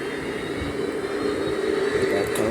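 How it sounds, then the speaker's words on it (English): A continuous loud roar from Boeing 767-300 jet engines in the game PTFS, a steady broadband whine and rumble that holds close and unchanging throughout, with no talking. "those engines are loud"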